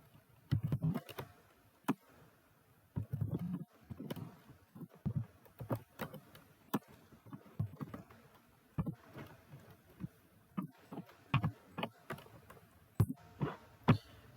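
Keys on a computer keyboard clack in irregular bursts of close, crisp taps with short pauses between runs, quiet room and no talk.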